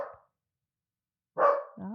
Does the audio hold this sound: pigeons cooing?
no